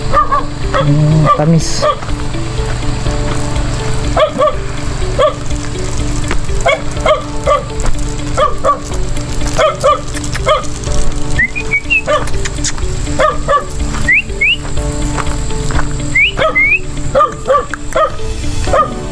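A dog barks repeatedly at a campsite in Bulacan, sharp yips and barks scattered through a noisy outdoor scene while people talk nearby.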